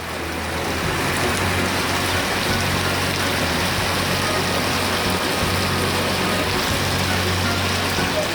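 Heavy water roars continuously after the worst rain since 2010 in Ribeirão, a dense, steady rush of flooding or downpour with no voices, loud and unbroken throughout.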